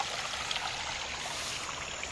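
A small stream flows through vegetation past hand-built bendway weirs, making a continuous, close, steady rush and trickle of water with no voices.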